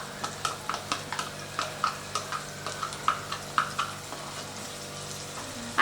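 Spice paste made from Kashmiri chilli and cashew sizzles in a hot pan with a soft, steady frying hiss, punctuated by a regular series of light popping and stirring ticks close by.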